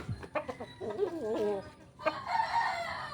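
A shamo rooster crows loudly and close, a long wavering call, followed by brief clucking and a second bird's rougher cry.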